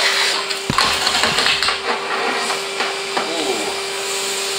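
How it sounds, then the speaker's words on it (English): Vacuum cleaner sucking up wood stove ash: a loud, steady close whine with a constant hum, broken by rattling clicks and knocks as debris goes up the hose. "as I just showed you while I was doing the hoovering then"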